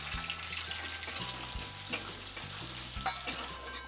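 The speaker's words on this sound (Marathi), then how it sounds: "आता कांदा एवढा असा भाजलेला आहे" Sliced onion with cumin seeds and curry leaves frying in hot oil, a steady close sizzle broken by occasional stirring scrapes and clinks, no voices.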